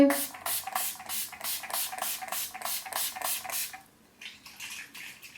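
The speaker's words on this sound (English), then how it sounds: "I'm going to spray my face with some setting spray." Makeup setting spray misted onto a face in a series of about nine rapid, close pumps with hissing bursts, then a brief pause and a couple of softer sprays.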